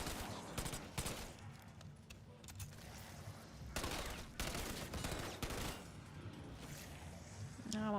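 Gunfire bursts in Call of Duty Warzone, rapid loud fusillades and machine-gun volleys repeating across the stretch over a constant game backdrop, with faint voice underneath.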